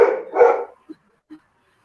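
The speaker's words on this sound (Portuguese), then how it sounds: "Pelo menos o cachorrinho gostou da minha fala." A small dog barks twice close by in a quick pair, followed by two faint soft yips after a short pause, with no talk over it.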